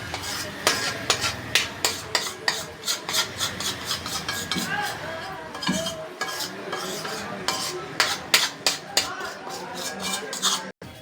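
Metal spoon scraping and pushing cooked barfi mixture from a pan onto a plate, with repeated short rasping scrapes and clinks in an uneven rhythm, close and moderately loud, some faint talk in the background.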